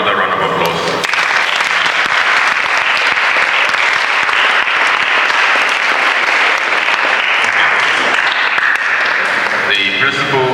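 An audience of students and staff at a school financial literacy presentation gives a long, loud round of applause, a dense and even clatter of many hands that stops sharply near the end as talking resumes.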